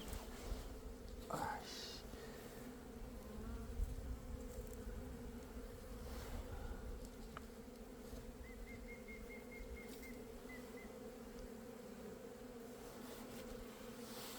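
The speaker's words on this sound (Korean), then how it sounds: "꿀벌이 지금 화분을 붙잡고 들어왔는데 화분을 붙일 데가 없으니까 헤매고 있습니다" Honeybees buzz steadily around a beehive frame during hive inspection, one bee carrying pollen and wandering about; a dense, continuous hum close by with occasional louder passes of individual bees.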